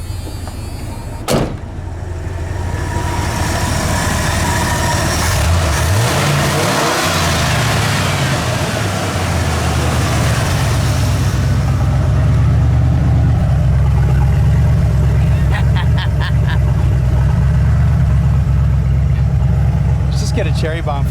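Carbureted engine on a junkyard Ford Bullnose truck, swapped from EFI, cranking and firing up after a sharp click, then settling into a loud, steady, rumbling idle with a brief rev, while a voice talks close by.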